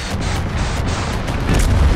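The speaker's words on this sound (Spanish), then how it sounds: "A ver si los cohetes lo tumban." Rocket explosions in the Far Cry 6 video game form a dense, loud, continuous run of booming blasts, heaviest toward the end, with no talk over them.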